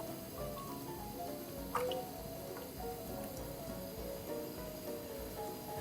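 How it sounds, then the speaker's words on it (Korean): Agar powder being stirred with a spatula in a boiling pot while making cherry blossom kohakuto candy, giving soft continuous bubbling and wet squishing with occasional drips and a faint tick, steady and close, with no talking. "한천 가루를 넣고 주걱으로 저으며 끓여줄 건데요"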